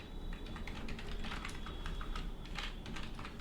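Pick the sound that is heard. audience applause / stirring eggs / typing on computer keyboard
typing on computer keyboard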